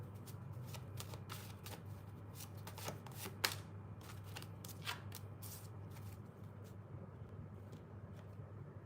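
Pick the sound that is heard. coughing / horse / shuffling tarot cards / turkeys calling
shuffling tarot cards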